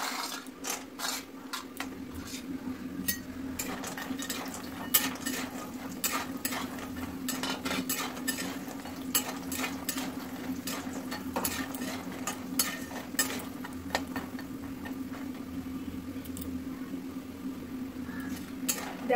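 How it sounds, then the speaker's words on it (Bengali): Lentil dumplings (bori) frying in hot oil, a low steady sizzle under frequent sharp clinks and scrapes of a spatula against the pan, continuing evenly for a long stretch. "এখন আমি বড়িগুলো ভেজে নেব।"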